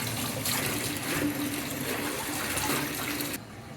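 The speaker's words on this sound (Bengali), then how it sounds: "শাকগুলোকে ভালোভাবে ধুয়ে নেব যাতে কোনো ময়লা না থাকে" Fresh leafy greens washed under a running tap, a steady close splash and trickle of water over the leaves that cuts off abruptly near the end, with no talk.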